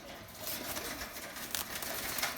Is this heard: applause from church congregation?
no